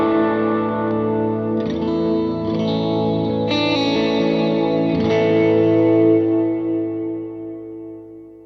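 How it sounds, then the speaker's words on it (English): Electric guitar played through an Atomic Ampli Firebox top boost amp sim voiced like a Vox AC30, several ringing chords struck one after another with lush, effected sustain and a slow fade at the end. "So the first one is a top boost, which is essentially a Vox AC30 kind of sound."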